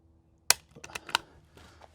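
A .22 rimfire rifle fires during an NRL22 precision match stage: one sharp, loud crack, followed by several lighter, quick clicks and knocks close by.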